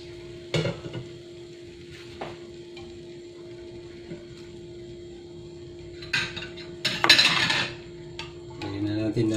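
Sautéing in a pan for afritadang dalag brings intermittent metal clinks of a utensil against cookware over a faint hum, with a louder burst of sizzle and clatter near the end.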